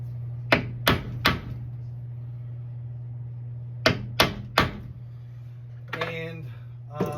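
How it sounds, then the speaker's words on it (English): A center punch is struck into a ski for CAST Freetour 2.0 binding screw holes: two quick sets of three sharp metallic taps, separated by a pause, over a steady low hum, followed by a faint rattle. "Get the center punch done."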